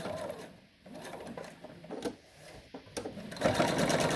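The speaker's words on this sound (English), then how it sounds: "Make my machine go a bit faster here." A sewing machine runs in fast bursts while stitching a fabric mask cover, its rapid mechanical whir stopping briefly and then restarting, close and fairly loud.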